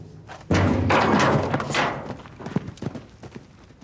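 A wild mustang's hooves thud toward the listener, a loud burst of heavy hoofbeats and rustling that settles into scattered softer footfalls as the horse slows nearby.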